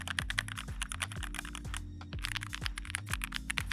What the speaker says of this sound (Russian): Послушайте на этот классный звук механической клавиатуры.